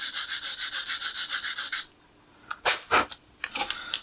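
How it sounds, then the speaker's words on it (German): Sandpaper rubs paint off a plastic scale model part in quick, rhythmic back-and-forth strokes close up, followed after a pause by a few scattered scraping and handling sounds. "Jetzt schleife ich da kurz an."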